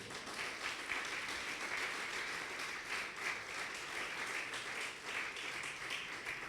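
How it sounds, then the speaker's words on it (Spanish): A church congregation claps for the king during a Spanish-language service, quiet dense applause holding steady for several seconds from a distance, with a few brief voices in the crowd. "dele palmas al rey, hermano"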